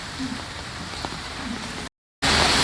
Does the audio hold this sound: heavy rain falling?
yes